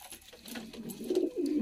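A Jhamre pigeon cooing close by, soft throaty rolling coos rising at the end of a brief phrase.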